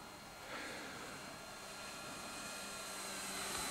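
An H-King J-3 Piper Cub EPO foam RC airplane with 1400mm wingspan, electric on 3S or 4S, flying with a steady faint whine and hiss at a distance, no voices.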